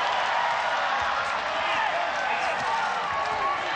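An arena crowd roaring during a ONE Championship women's MMA bout between Tiffany Teo and Meng Bo, a steady wash of cheering with a voice talking over it.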